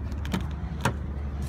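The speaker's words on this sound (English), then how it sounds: "you just touch there and it locks the doors." A 2015 Ford Edge locks its doors at a touch of the handle with the smart key nearby, two short muffled clunks about half a second apart, close by over faint background hum.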